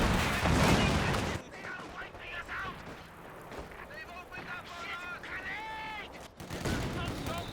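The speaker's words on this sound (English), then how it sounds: "More rifle grenades coming in" Rifle grenades and gunfire in a real-time strategy game battle: heavy loud blasts open and close, with scattered shots and distant explosions between, while a voice talks over the action.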